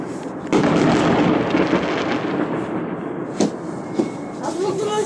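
New Year fireworks over Kharkiv boom and crackle repeatedly, a dense rumble of bursts with a few sharper bangs standing out, loud and fairly near.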